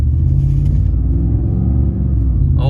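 A car engine in sport mode rumbles loud and close, a deep steady drone that holds for a few seconds.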